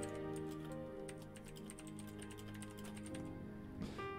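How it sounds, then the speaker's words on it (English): Rapid keyboard typing clicks under a steady backdrop of sustained background music, the keystrokes dense and fairly close for about four seconds. "someone else is typing"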